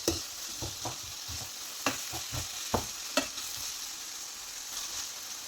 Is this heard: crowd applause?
no